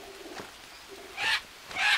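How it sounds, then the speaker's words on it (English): Birds call in the jungle of the video game Green Hell: two bright, loud chirping bursts follow fainter, softer calls, with no talking. "Other than the birds, obviously."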